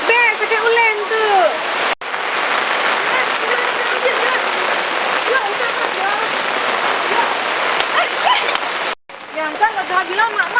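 Heavy rain pours steadily in a loud, dense hiss, with people talking over it at the start and end.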